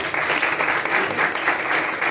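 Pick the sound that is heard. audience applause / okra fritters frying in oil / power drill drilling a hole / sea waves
audience applause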